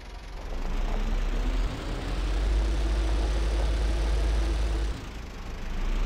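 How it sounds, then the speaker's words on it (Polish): Tractor engine idling in the Farming Simulator 15 video game with a Polish village map, a steady low rumbling drone that holds evenly for about six seconds, dipping briefly twice, with no talking. "Patrzę, co ten traktor staje."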